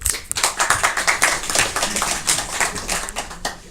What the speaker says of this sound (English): Let's give him applause, okay?